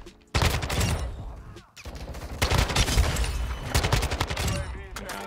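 Rapid Kastov 545 rifle fire in a Modern Warfare 2 match, dense automatic bursts that run almost continuously after a brief opening pause, loud and close with a short gap midway.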